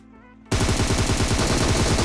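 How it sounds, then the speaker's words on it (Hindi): A sudden burst of rapid automatic gunfire in PUBG Mobile rattles on loud and close after a brief quiet start. "और फायरिंग करता है बंदा"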